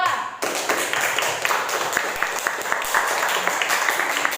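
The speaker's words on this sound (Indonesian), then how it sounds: "tepuk tangan untuk kelompok 2" Classroom of students clapping for a group after its poster presentation, a dense steady patter of many hands throughout, close and fairly loud, with voices mixed in.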